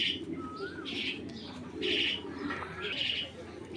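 Racing pigeons in a loft, soft close cooing and chirps in short repeated phrases, with a quiet background murmur.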